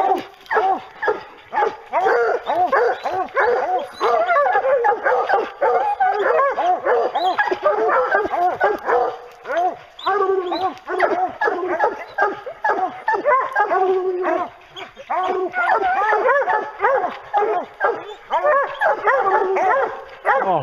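Several hunting hounds bark and yip excitedly during a bear hunt in quick, overlapping bursts, close and loud, continuing almost without pause with a few whimpers mixed in.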